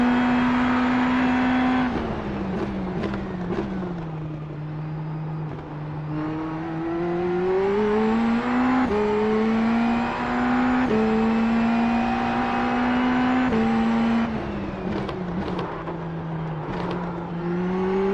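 An open-wheel Indy NXT race car engine in the iRacing sim, droning steadily and loud as it rises and drops in pitch through gear shifts during a testing session, heard alone with no talk.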